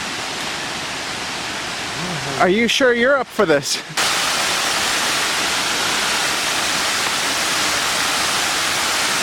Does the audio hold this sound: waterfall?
yes